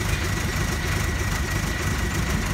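A truck diesel engine idles close by while its injection pump is being adjusted, giving a loud, steady rumble with a fast, even knocking pulse and no voices over it.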